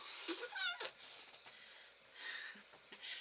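A house cat meows faintly at a distance, a few short rising cries followed by quieter chirps in a hushed indoor room, with no talking.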